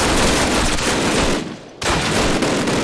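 Automatic weapon fire in a Call of Duty match, loud and close rapid bursts filling the clip, broken by a brief pause near the middle before the shooting resumes.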